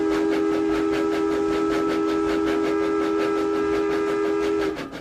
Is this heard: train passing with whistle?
yes